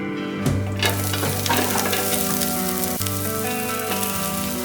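Onion sizzling and frying steadily in hot oil in a pot for chicken mandi, a continuous crackling hiss with occasional stirring, close and fairly loud with no talking.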